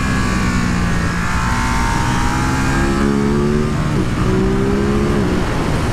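A 2023 Ducati Monster SP motorcycle engine runs steadily under load, its loud, continuous drone rising and falling in pitch as the bike is ridden through bends.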